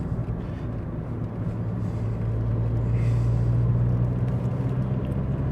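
A 2008 Skoda Octavia II 1.9 TDi with a turbocharger overboost fault is heard from inside as it drives over a bumpy road. The engine drone is steady and loud, with low rumble throughout and no talking.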